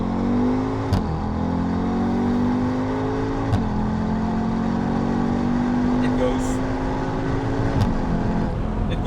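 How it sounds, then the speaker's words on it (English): A 2020 Audi S3 8Y with quattro all-wheel drive and a stage 2 tune accelerates hard through several gears, the engine note rising steadily and dropping at each shift, loud and close with steady road and wind noise beneath. "this car is a quattro driven Audi S3 8Y model year 2020, and it launches good every time if the calibration is done properly"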